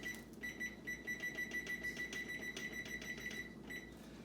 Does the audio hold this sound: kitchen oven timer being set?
yes